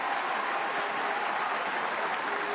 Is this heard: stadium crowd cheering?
yes